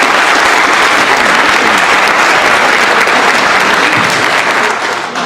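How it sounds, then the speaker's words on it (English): Loud, sustained applause from a crowd at a Douglas County school board forum, honouring students, with a thick wash of clapping that runs throughout and eases slightly at the very end. "can we also just give them a round of applause?"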